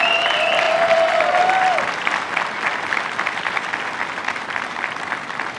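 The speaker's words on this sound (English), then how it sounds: "How about one more round of applause for him?" Loud crowd applause at an Army Call to Arms induction ceremony, with a brief high tonal whine over the opening seconds before the full clapping continues on its own.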